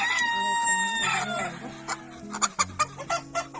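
Chickens and roosters cluck in a yard, a sustained crow-like call at first, then a run of short, close clucks.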